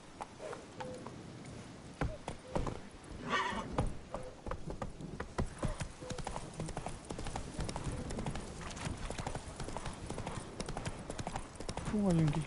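Hooves of a horse clip-clopping at a gallop in The Witcher 3 video game, with a neigh partway through and a whinny near the end, all under steady talk from a player.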